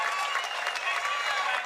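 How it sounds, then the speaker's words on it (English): A pickleball crowd at a professional playoff match in San Diego roars and applauds loudly and continuously, a dense wash of clapping and cheering. "Big roar to the crowd."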